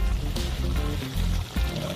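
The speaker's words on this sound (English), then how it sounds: "I think I should add a little bit more water." Water poured into a pot of Jamaican-style steamed fish, a steady low splashing and gurgling flow mixed with faint kitchen clatter, close and moderately quiet.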